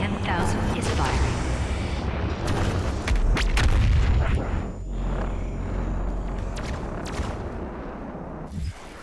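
Loud booming weapon blasts from the BFG 10,000 in Doom Eternal, heavy low rumble swelling and fading over several seconds with sharp bursts and a synthetic whine, under a continuous mix of game effects.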